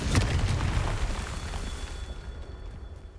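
A Confringo fire spell blasts in Hogwarts Legacy, with a loud, broad explosive burst at the start that rumbles and slowly fades over a few seconds.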